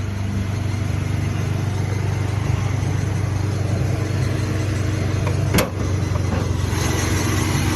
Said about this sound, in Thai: นี่เครื่องสตาร์แล้วนะครับ